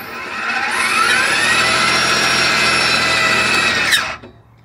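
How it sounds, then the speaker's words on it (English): EGO SNT2400 56V electric two-stage snow thrower powering up in eco mode, a loud steady whine that ramps up in pitch, holds at a constant drone for several seconds, then cuts off abruptly and dies away. "firing this up is super easy. Push the power button and pull down on this lever here."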